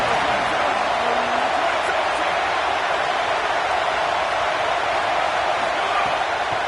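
Home crowd in a college football video game during a third-down defensive stand, a dense continuous roar of cheering voices holding at an even, loud level throughout.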